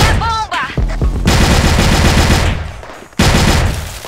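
Loud, sustained bursts of rapid automatic gunfire in a video game ranked match, a dense rattling stream that cuts out briefly, then resumes, after a short voice at the start.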